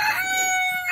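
A rooster crows once, loud and close, a single short harmonic call near a quail pen, with no talking.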